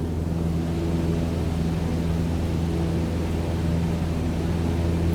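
Steady, loud engine drone with a low hum and broadband rush of a light aircraft in Microsoft Flight Simulator after the throttle is cut to idle, continuous and even throughout, with no voices.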